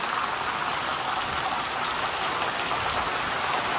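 Heavy rain pours down steadily near a house, a dense, even hiss of drops drumming on surfaces that stays loud and unbroken throughout, with no voices.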